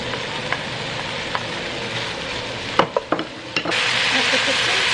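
Beef and minced garlic sizzling in a hot pan, a steady fry broken by a few loud clattering hits as the meat drops in and is stirred, then a fuller, louder sizzle continuing to the end.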